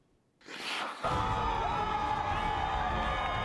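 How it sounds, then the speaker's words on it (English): A loud home crowd roars at a college basketball game in Topeka between Washburn and the Griffins, swelling suddenly after a short quiet moment into a sustained wall of cheering and shouting. "Great loud crowd in Topeka"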